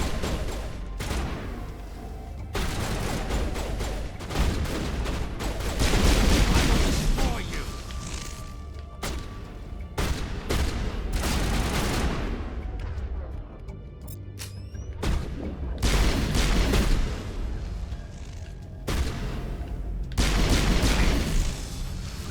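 Pistol fire from a Mass Effect battle, including a poison pistol, cracks repeatedly in dense bursts among booms and crashes, with loud shots recurring throughout the fight over steady talking.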